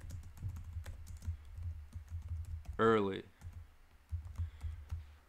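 Quick, light keystrokes clatter on a computer keyboard in an irregular stream, close and clear, with a person speaking briefly in the middle.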